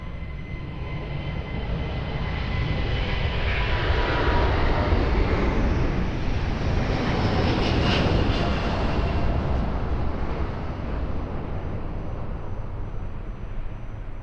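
An airliner takes off from runway 02 at Lisbon Airport at night: a broad jet roar that builds, peaks midway as the aircraft passes fairly close, then slowly fades into the distance, with no voices over it.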